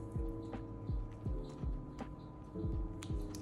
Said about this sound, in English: I'm sorry if you hear a staticky noise. That is my air conditioner.